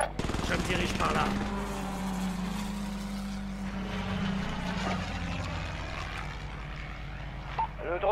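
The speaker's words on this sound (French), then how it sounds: "Le drone commence son survol." A reconnaissance drone in Warzone drones overhead with a steady propeller hum that holds for several seconds before fading, with a voice speaking and scattered game sounds.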